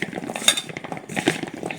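Sliced elephant yam being mixed by hand with spice masala in a bowl, giving soft irregular squelching and clinking sounds in short bursts, close up with no talking.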